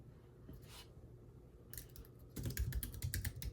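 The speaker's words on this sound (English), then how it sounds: "Let me type that in again." Quiet, irregular clatter of keys on a computer keyboard, a short burst followed by a busier run of taps, with no talking.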